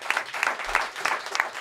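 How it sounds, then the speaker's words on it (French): A brief burst of clapping from a small studio audience on a French-language sports talk show, steady and moderately loud. "On peut l'applaudir."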